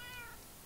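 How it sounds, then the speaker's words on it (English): Cats meowing in Minecraft, a short high-pitched mew with clear harmonics that fades out over under a second, heard alone and fairly close. "Do I hear my cats? Are those my cats?"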